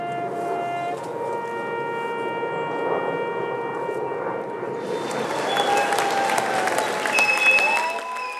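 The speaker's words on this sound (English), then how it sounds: "Applause at the airport wasn't their only surprise" Applause for veterans arriving at an airport, a steady crowd clapping throughout that swells louder in the second half, with a sustained tonal hum in the background.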